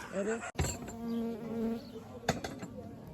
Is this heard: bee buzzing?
yes